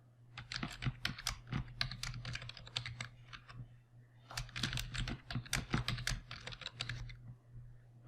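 Fingers type a password on a computer keyboard while setting up an Azure PostgreSQL server, producing two bursts of quick, close key clicks separated by a short pause, over a faint steady hum.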